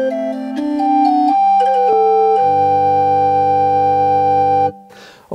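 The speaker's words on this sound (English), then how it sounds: "You could get a smaller pipe organ, just like an 8-foot flute." Roland LX-5 digital piano playing a small pipe organ 8-foot flute voice, a steady sustained organ melody with held bass notes, close and clear with no talking, cutting off near the end.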